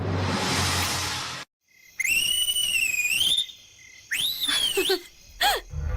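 Shrill whistle blasts in a few separate bursts with short gaps, loud and close, some rising and bending in pitch, amid a noisy household gathering.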